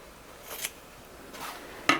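Scissors snipping gold ribbon for a Christmas garland wreath: two soft, quick cuts about a second apart, then a sharper, brighter snip right at the end.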